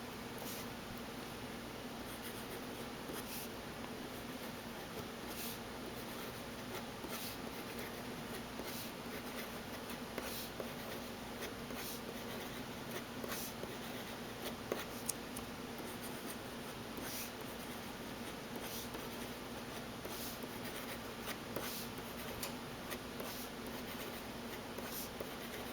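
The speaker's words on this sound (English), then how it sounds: "just printing or writing in this pen as you normally would using this pen will make it look a lot nicer" Steady, faint scratching of a Pilot Plumix fountain pen nib writing on paper, continuing evenly and close with small irregular strokes and no voices.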